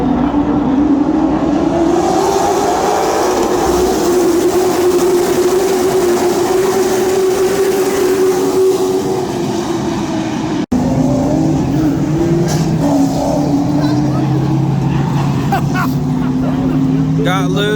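Race cars circling a short oval at Florence Motor Speedway during a South Carolina 250 event, a steady loud drone of engines from the stands that shifts pitch as cars pass, with a commentator's voice over the noise.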